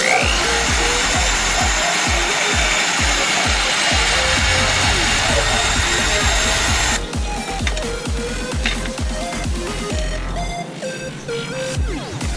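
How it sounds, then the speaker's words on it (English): Power drill bores out rivets on an Evo 9 JDM rear bumper light bracket, a loud continuous whine with rapid rhythmic pulses that shifts in tone partway through as the bit breaks through, close to the mic. "drill out these rivets and put them lower"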